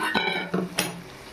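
Boiled banana stem, potato and eggplant tipped into a pan, giving a couple of brief clattering knocks against the metal, fairly close and quiet, with no voices.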